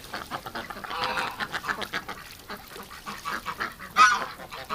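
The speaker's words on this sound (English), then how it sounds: "Ducks having some fun." Ducks in a winter yard honk and quack in a busy, overlapping chorus close by, with louder calls breaking out now and then.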